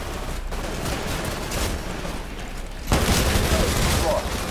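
Rapid gunfire in the video game Titanfall, dense bursts of shots and booms over an unbroken stretch, getting louder near the end, with a voice talking over the top.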